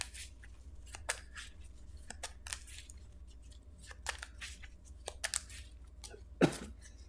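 Lorcana trading cards being shuffled by hand, close and quiet: a string of short, crisp snaps and riffles at an uneven pace, with one louder flick near the end.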